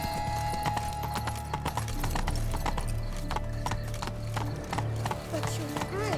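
Horse hooves clip-clop steadily in The Witcher 3: Blood and Wine, a repeated rhythmic trot heard close over a continuous music bed, with a brief whinny-like sound and faint game dialogue in the mix.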